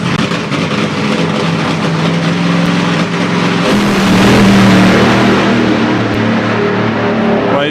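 A top methanol drag car roars down the strip at Santa Pod Raceway with its engine dropping a cylinder on the right-hand side. The loud, steady engine note surges midway and then eases off.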